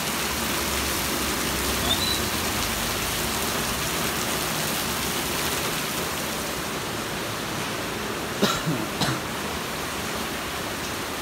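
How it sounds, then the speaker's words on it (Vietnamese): Heavy rain mixed with hail pours down at a city roundabout during light flooding, a loud, unbroken wash of noise with a couple of brief sharp knocks near the end. "mình đang quay mưa"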